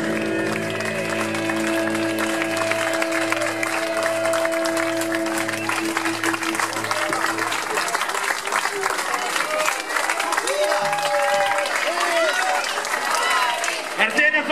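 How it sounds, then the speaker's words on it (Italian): A concert crowd at a 2014 live show in Artena, Italy, applauds in a dense, steady roar of clapping and cheering that fills the whole stretch, with sustained musical tones ringing underneath during the first half. "Facciamo noi un applauso a voi."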